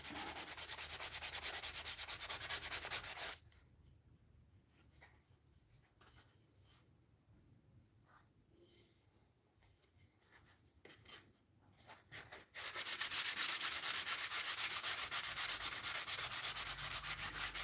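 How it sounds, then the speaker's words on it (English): Wood is sanded by hand with sanding pads, a close, steady raspy rubbing that stops for several seconds of near silence and then resumes, with no voices. "Hate sanding by hand, but there are so many curves and nooks and crannies you can't get with the orbital sander."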